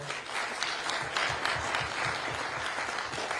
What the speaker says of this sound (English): Y'all give this panel a big round of applause.